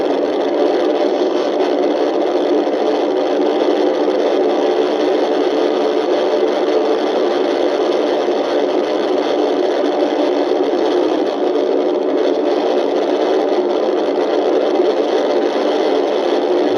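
A police car's 5.7 Hemi engine drones at speed during a chase, a loud, steady, unbroken roar blended with road and wind noise and no talk.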